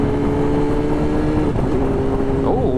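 A BMW S1000RR sport motorcycle engine drones steadily and loudly while being ridden, a continuous close engine tone with a brief pitch shift near the end and no speech.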